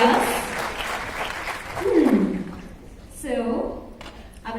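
An audience at a college tech festival claps and cheers in a loud burst, swelling and fading, with a host's amplified voice speaking over it.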